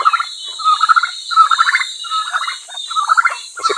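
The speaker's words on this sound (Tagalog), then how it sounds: "Ito naman yung ating pabo na laging nakasalubong sa atin na mamalo." A domestic turkey on a small Filipino farm where chickens and ducks are also kept gobbles in repeated rattling bursts, close and fairly loud, with short pauses between calls.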